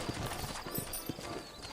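Horse hooves clip-clop at a steady walk on a dirt trail in the Red Dead Redemption video game, a fairly soft, even rhythm amid ambient outdoor game sound.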